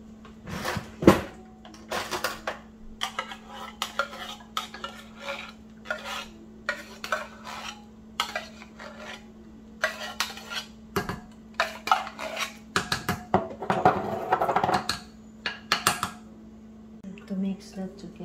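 A utensil clinks and scrapes inside a bowl as evaporated and condensed milk are stirred together for leche flan, giving irregular close metallic taps over a steady low hum, with a voice talking at times.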